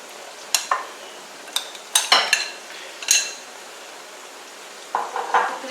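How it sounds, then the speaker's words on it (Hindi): Metal spoon scraping and clinking against a pot as chicken is stirred into a mix for achar gosht, several sharp scrapes in quick bursts with a quiet pause before a final few, close and clear. "अब इसे मैं मिक्स कर लेती हूँ।"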